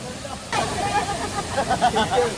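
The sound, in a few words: Talay Falls waterfall in Laguna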